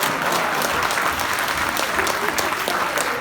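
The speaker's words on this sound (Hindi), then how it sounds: "आप लोग जोरदार तालियां बजाइए।" Loud, dense applause from an audience at a Hindi comedy poetry gathering in Agra, steady broadband clapping sustained without a break for a few seconds.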